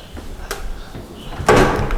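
A refrigerator door in a home kitchen swings shut with a single close thud near the end, following a faint earlier knock, with no talking.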